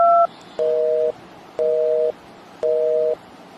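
A telephone busy tone from a call that fails to connect: three evenly spaced, steady beeps with short gaps, loud and clear, with no voices over them.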